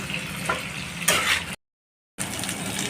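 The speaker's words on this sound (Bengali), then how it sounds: "এবার সবজিগুলো ভালো করে ভাজতে হবে।" Shukto vegetables frying in a pan give a steady, close sizzle with scraping stir strokes. The sizzle cuts out briefly to silence, then resumes.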